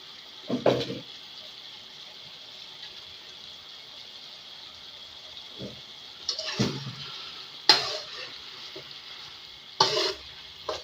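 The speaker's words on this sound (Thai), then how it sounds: "เคี่ยวเข้าเนื้อหมูของเราจนน้ำงวด" Sweet pork with oyster sauce simmering and reducing in a pan, a soft steady bubbling hiss with a few louder stirring scrapes and clatters now and then.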